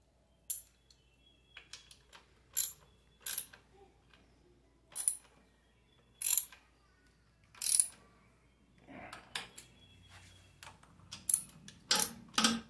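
Ratchet tightening down a part on a PT6 turbine engine, heard as sharp clicking bursts in irregular clusters, close and fairly loud against a quiet background.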